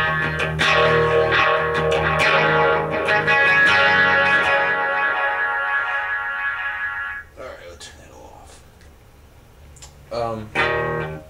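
Heavily distorted electric guitar chords through a Line 6 Spider III 75-watt combo amp ring out loud and sustained, then give way to quieter, sparser distorted strums.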